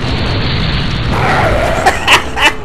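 A grenade goes off in Resident Evil 4, a muffled boom rolling under a steady game background, followed by a few short sharp bursts near the end.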